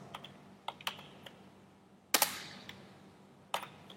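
Keystrokes on a computer keyboard while coding a web page, sparse close clicks with one louder burst of rapid taps, quiet otherwise and without speech.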